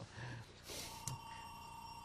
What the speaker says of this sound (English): Answer the phone? Is that your telephone?